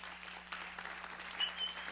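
Applause from a congregation at a church service, a soft, distant wash of many hands clapping, steady and fairly faint throughout.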